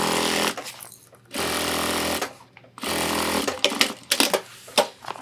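Electric sewing machine tack-stitching close to the edge of an ultralight 30L hiking backpack, running in several loud bursts of rapid stitching with short pauses and a few clicks between, heard up close with no talking.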